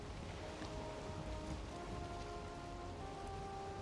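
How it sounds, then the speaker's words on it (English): Rain falls in the video game Valheim as a soft, continuous hiss of drops, quiet and unbroken, with no voices over it. "Now we're raining."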